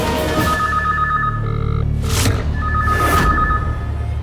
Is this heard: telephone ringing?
yes